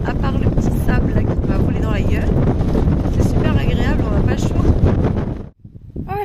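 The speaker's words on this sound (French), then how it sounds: "Mais il y a beaucoup de vent." Strong wind buffets the microphone beside a mountain river in Greece, a loud continuous roar with rustling that cuts off abruptly near the end, leaving a quieter background.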